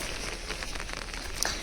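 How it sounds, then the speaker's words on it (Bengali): Heavy rain falls steadily outside, a dense, even patter that fills the short stretch at moderate distance, with a small sharp tap near the end. "অসম্ভব বৃষ্টি পড়ছে বাইরে।"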